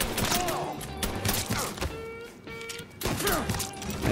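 Rapid bursts of gunfire from a shootout in Mafia 3, loud and close, repeating in clusters with short gaps and a brief lull midway.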